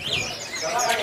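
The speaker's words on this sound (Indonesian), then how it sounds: "Jenis burung cakupi juga banyak banget pilihan" Cakopi birds at a bird market kiosk in Pramuka, Jakarta, chirp in quick, high, overlapping tweets close by, with a faint murmur of market voices underneath.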